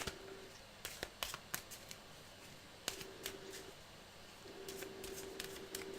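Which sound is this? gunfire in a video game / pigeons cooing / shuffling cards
shuffling cards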